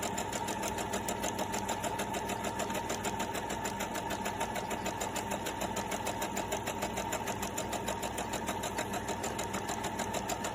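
A sewing machine running a straight stitch through a fabric medical mask, a steady continuous whirring hum with fast regular mechanical pulsing throughout, close and fairly loud, no voices.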